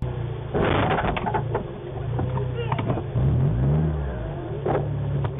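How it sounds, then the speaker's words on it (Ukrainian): An SUV chases a car and repeatedly cuts it off, its engine revving and accelerating in loud surges close by, with a voice over the traffic noise. "Машина майже 9 хвилин переслідує автівку Тетяни, підрізає її та ранить із різних боків"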